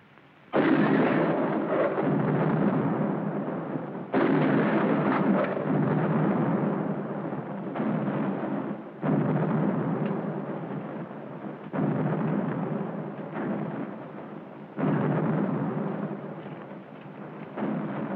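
Nine-pounder artillery guns fire in a 1951 western film battle scene, with loud booming blasts at intervals of a few seconds, each followed by a long rumbling roar that fills the space between shots.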